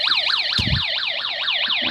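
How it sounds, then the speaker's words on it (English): A homemade snap circuit fire alarm wails with a rapid, repeating up-and-down electronic siren tone, loud and close, with a brief clatter of handling beneath it. "And let's set off the alarm."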